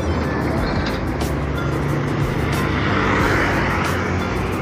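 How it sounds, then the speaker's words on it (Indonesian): A Harapan Jaya bus pulls off the toll road at a busy toll gate in Jombang, East Java, on an evening with heavy traffic. A loud, steady engine roar dominates, with constant surrounding road noise. "ada bus Harapan Jaya ini keluar dari tol Banter dari arah Surabaya yang menuju ke arah Trenggalek"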